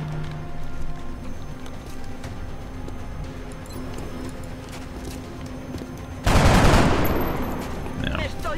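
Gunfire in XCOM Long War bursts out suddenly as one loud, sharp volley near the end, then fades, after a stretch of low humming ambience.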